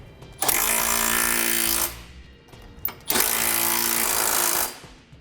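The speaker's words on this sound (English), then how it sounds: "now we'll use a 19mm socket and tighten our bolts on down" Two loud, sustained bursts of a power tool with a 19mm socket drive the trailer hitch bolts tight under a 2009 Toyota Matrix. Each run lasts about a second and a half, with a short pause between and no talk.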